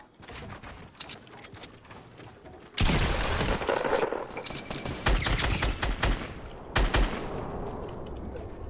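Bursts of rapid gunfire in the video game Fortnite, sparse early shots giving way to loud, dense automatic volleys that come in several waves and then ease off.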